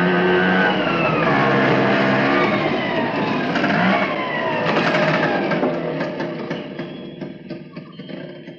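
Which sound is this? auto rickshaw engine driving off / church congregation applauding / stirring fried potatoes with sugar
auto rickshaw engine driving off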